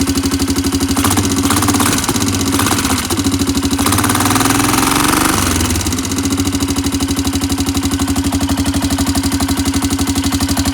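A Polaris Sportsman 500 ATV engine that won't rev idles steadily and loudly up close, with a brief rough surge in the middle before settling back to an even chug.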